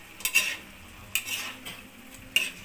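Chicken afritada stirred in a pot, three scraping strokes of a utensil over a low simmering sizzle, close and moderately loud, no talk.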